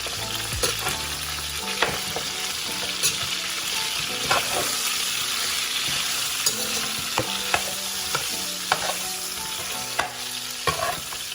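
Continuous loud sizzling and frying of chicken feet in a pot, with occasional sharp clicks and scrapes of stirring throughout.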